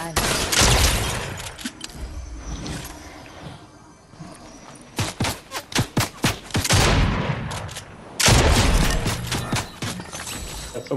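Fortnite gunfire pops in a rapid string of distinct shots in the middle, with heavier bursts before and after, loud and close against background game noise and brief talk.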